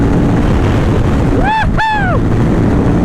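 A KTM motorcycle engine while riding, heard through heavy wind buffeting, with its tone swelling upward and then sliding back down in one brief rev.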